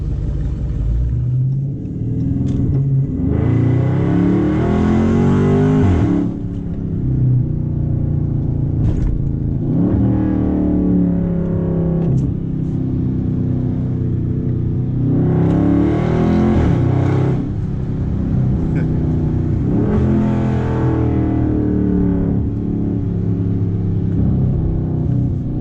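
A 2019 Dodge Charger Scat Pack V8 driven on the road: a loud, deep engine rumble from inside the car, repeatedly revving up in surges and dropping back between pulls, with no talk.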